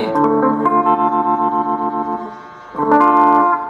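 An electric guitar through the wah effect of a Vox StompLab 2G multi-effects unit rings out in sustained, distorted chords with a vocal, plunger-like sweep, then a second strummed chord.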